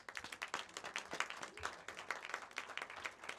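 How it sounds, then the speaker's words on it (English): A crowd at a graduation ceremony at a sports club claps for a team, brisk uneven clapping heard from some distance at low level, continuous throughout. "I think we can clap for this team."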